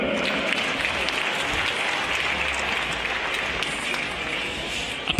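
A home crowd at the 2015 para-cycling track world championships in Apeldoorn applauds and cheers for two Dutch riders, a dense, steady wash of clapping that holds loud and unbroken throughout.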